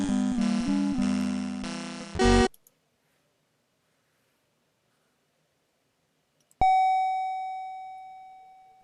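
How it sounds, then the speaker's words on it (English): A doorbell rings in The Castles of Dr. Creep video game, a single bright electronic chime that decays slowly, heard after a burst of game music and a stretch of silence. "there are doorbells. Ring the doorbell to open the door, as you do."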